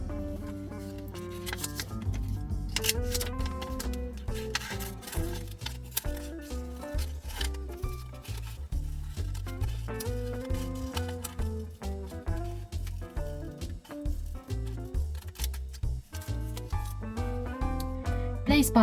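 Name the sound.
scissors cutting felt shapes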